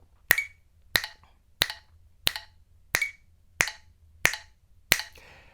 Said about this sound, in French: vous faites le claquement de doigts